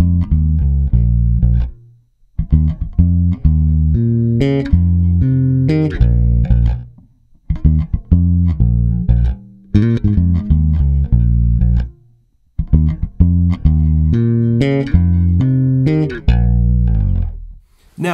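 Bass guitar played through an EBS Multicomp compressor pedal, a long run of plucked riff phrases with even, steady loudness and short gaps between phrases, close and prominent with no voices.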